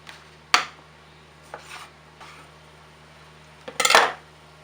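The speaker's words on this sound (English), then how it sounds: "We'll just grab tomatoes, cherry tomatoes. We'll just halve them. So just cut them in half." A knife cuts cherry tomatoes in half on a board, giving a few sharp, close knocks and clicks with short scraping rubs, the last a longer cluttered burst, under a quiet steady hum.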